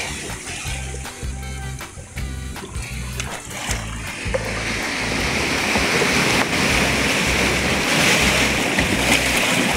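Waves of the sea wash steadily near the shore while seawater is scooped, with a rhythmic low thumping early on and the surf growing fuller and louder toward the end.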